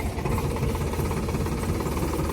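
Tractor engine carrying wedding furniture, rumbling steadily with a rough, knocking low-end throb throughout, close and continuous.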